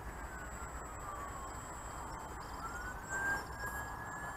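A Vic Smeed Pulstar single-channel pulse-proportional model plane flies overhead, its small motor giving a faint, distant, steady whine that rises and shifts slightly in pitch before cutting out.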